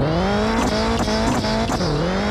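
A lowered turbocharged car accelerates hard off the line at a night street race, its engine screaming close and loud as the pitch climbs through several quick gear shifts.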